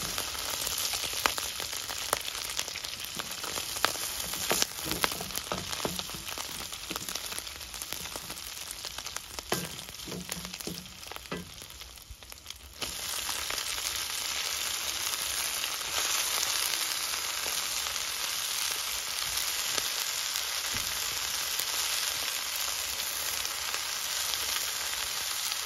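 Minced meat and onion fry in oil in a pan with pepper paste and spices, giving a steady, close sizzle that crackles unevenly at first and then settles into a loud, continuous hiss.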